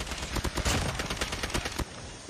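Close, loud rapid gunfire in the Call of Duty Mobile game, a dense burst of repeated shots lasting most of the moment before stopping abruptly, with sniper shots reported nearby.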